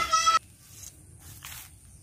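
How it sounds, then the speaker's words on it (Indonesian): Goats near a rice field give one loud, harmonic bleat at the start, then only faint rustling and quieter outdoor noise follow. "Kambing Mas Apis ada 3"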